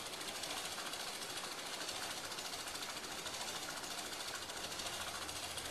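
An 800-volt Newman electric bike wheel's hub motor spins with a faint, steady, rapidly pulsing rumble, close and unbroken throughout.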